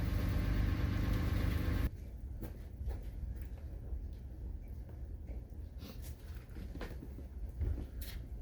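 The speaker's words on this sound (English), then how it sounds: "My neighbor started his diesel pickup" A diesel pickup engine idles with a low, steady rumble, loud for the first two seconds and then fainter in the background, with occasional small clicks.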